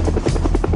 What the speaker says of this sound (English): The sound of its rotor blades has become a legend in itself.